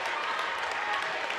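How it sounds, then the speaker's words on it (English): Boys basketball playoff crowd in a school gymnasium applauding and cheering after a home win, a dense continuous wash of clapping with voices mixed in. "And the crowd is excited after that win."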